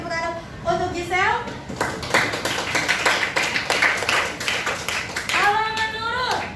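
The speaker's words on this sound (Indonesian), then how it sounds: "Beri tepuk tangan untuk Gisel." A classroom of children claps together at a teacher's prompt, a loud cluster of quick rhythmic hand claps lasting a few seconds, with an adult voice speaking before and after the applause.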